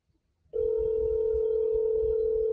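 A telephone dial tone sounds while a number is being called: a loud, steady, unbroken hum starts abruptly after a brief silence and holds at an even level.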